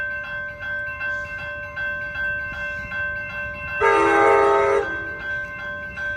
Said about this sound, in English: This is Amtrak 724 going to Sacramento. This train is going fast through 100 and 5th Avenue.